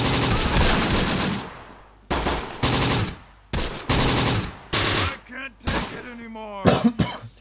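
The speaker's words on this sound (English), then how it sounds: "Seems to be a lot of automatic weapons in the squad here." A squad's automatic weapons fire in Close Combat: The Bloody First, with several loud, dense bursts separated by short pauses and a voice briefly heard near the end.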